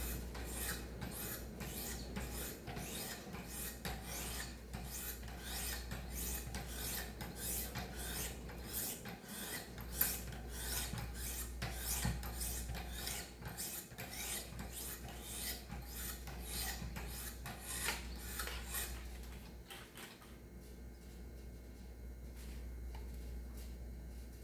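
A knife edge is stropped with rapid, evenly repeated rasping strokes, close and fairly soft, continuing for about twenty seconds before a quieter pause.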